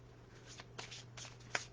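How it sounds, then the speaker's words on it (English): A deck of playing cards is handled and shuffled up close during a tarot-style card reading, with soft riffling bursts and sharper flicks spaced unevenly against a quiet background hum. "Now I'm going to put the cards back in the deck"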